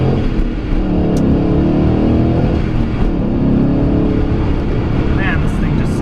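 A 2011 Mustang GT engine accelerates hard, a loud low throaty roar climbing in pitch close by, with talk over the engine noise.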